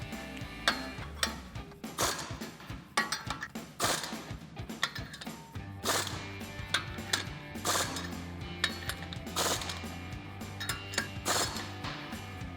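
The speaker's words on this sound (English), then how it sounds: "we're going to take the 19mm socket and our impact and tighten down the nuts" An impact wrench fitted with a 19mm socket tightens the nuts on 2-inch hubcentric wheel spacers on a 2015-2026 Ford F-150, sounding as repeated sharp hammering bursts with mechanical rattling and short pauses between nuts.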